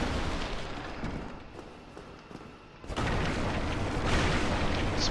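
Black firebomb going off in Dark Souls: rumbling, booming blasts, then a sudden louder burst of explosive noise that lingers as a sustained roar of crumbling debris, with no voices.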